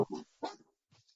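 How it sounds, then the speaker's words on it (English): A dog gives two quick, fairly quiet barks close by, followed by a faint softer yip after a short pause. "That was my dog."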